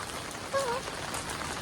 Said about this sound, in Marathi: आजच्या दिवशीच पाऊस इतका पडतोय ना